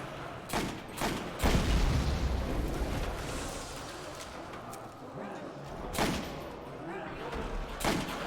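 Gunfire and explosive blasts in Call of Duty: World at War Zombies on Nacht der Untoten, several loud sharp shots spaced out with a rumbling, busy game backdrop.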